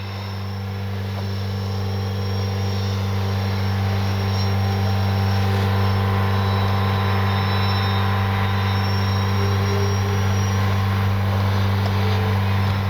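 An RC OV-10 Bronco scale model plane with twin engines makes a steady, loud motor drone that swells as it flies past at full speed, with no talk over it.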